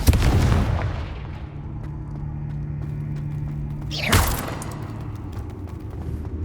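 Confringo fire spell blast in Hogwarts Legacy, a booming impact at the start with a rumbling tail, then a second sharp burst a few seconds later over a low mechanical background drone.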